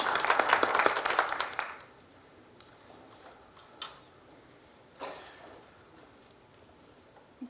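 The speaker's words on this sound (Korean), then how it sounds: "좀 박수로 환영을 해주십시오" Audience claps briefly to welcome a speaker at a Korea University ceremony marking Bang Jeong-hwan's 120th birth anniversary, a short burst of clapping that fades quickly, leaving sparse isolated taps and room noise.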